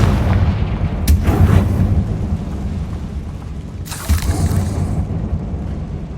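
Two deep booming blasts from the Confringo spell in Hogwarts Legacy, each a heavy explosion that rumbles and decays over a constant low background roar, spaced a few seconds apart.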